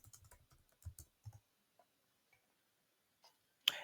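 A short flurry of clicks on a computer keyboard, close up and quiet, trailing off into scattered single taps and ending with a sharper click.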